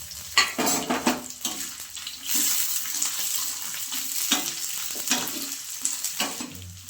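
Coconut, garlic, tamarind and dried chillies are dry-roasted in a pan, with a light crackling hiss under repeated scraping and clattering strokes of a spoon as the mixture is stirred, near and fairly quiet.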